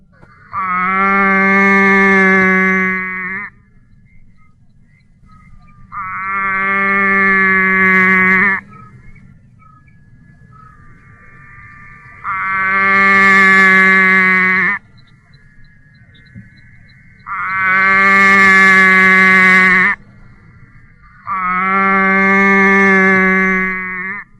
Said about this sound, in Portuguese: E a rã chorona emite seu pranto.